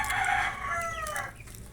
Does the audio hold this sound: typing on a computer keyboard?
no